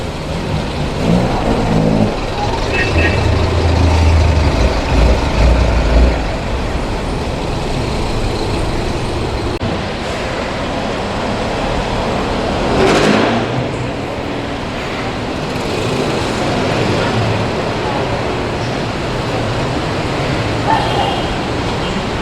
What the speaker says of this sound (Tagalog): Oh, there's traffic.